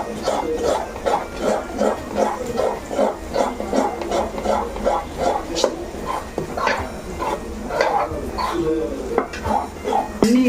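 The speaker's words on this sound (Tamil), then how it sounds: "இது வந்து இட்லி மாவு ரவையும் ஊற வச்சுக்கிறேன். இதை வந்து இதில் மிக்ஸ் பண்ணிக்கலாம். இதை நல்லா மிக்ஸ் பண்ணிட்டு" Idli batter mixed with soaked rava being stirred steadily in a bowl, a rhythmic series of soft wet scrapes and thuds repeating about twice a second, close and alone with no talk.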